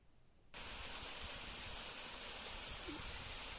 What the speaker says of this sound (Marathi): असा धबधब्याचा आवाज येत आहे